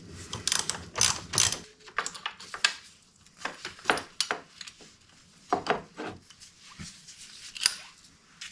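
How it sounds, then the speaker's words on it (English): Close, sharp ratchet clicks come in quick bursts with metallic clinks and pauses as brake calipers are removed from a 2015 Aprilia Tuono RSV4 motorcycle in a quiet workshop. "to do that, we first got to pull off our calipers here."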